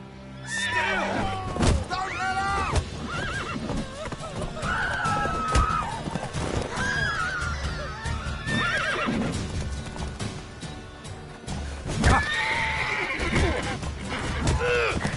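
A horse in a PS4 video game neighs and whinnies several times amid clip-clopping hooves and busy background sounds, loud and near.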